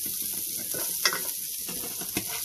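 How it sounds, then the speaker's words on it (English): Sausage fries in a pan with a steady, close hiss of sizzling grease, punctuated by a couple of soft scrapes and taps of stirring, with no talking. "Sausage is starting to look like it's getting cooked pretty good"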